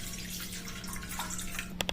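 Water pours steadily into a kadai on the stove while steaming jowar flour kudumulu, a continuous splashing hiss under a low hum, ending in a few sharp clinks.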